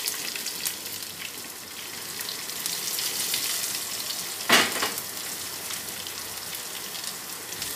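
Mustard seeds, cumin, garlic, curry leaves and onion fry in a pan of oil on an infrared electric cooker, making a steady dense sizzle with one sharper crackle midway, close and without talking.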